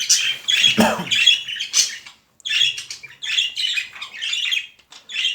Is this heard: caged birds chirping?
yes